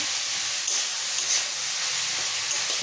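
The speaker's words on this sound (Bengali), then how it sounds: "পেঁয়াজটা দিয়ে দিলাম পেঁয়াজটা এখন ভাজতে থাকবো" Onion frying in hot oil gives a steady, soft hiss and sizzle throughout, with faint crackles, heard alone.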